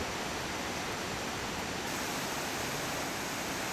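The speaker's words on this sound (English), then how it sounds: "this is one of the most spectacular waterfalls in Iceland" Steady, dense roar of a large Icelandic waterfall on a plateau, broadband and constant throughout, with no voices.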